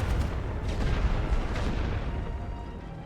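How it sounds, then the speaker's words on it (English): Rifle and machine gun fire from a World War I trench battle in The Great War: Western Front, heard as a dense, distant rumble of shots and booms that carries on steadily without a break. "So there we go, we've got rifle and machine gun fire."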